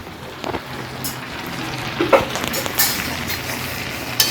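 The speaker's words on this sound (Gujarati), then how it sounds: "હલવો બનાવવાની પ્રોસીજર ચાલુ છે." Carrot halwa cooking in a pan while being stirred, giving a soft, uneven sizzle with scattered scraping clicks from the stirring at close range and no clear speech.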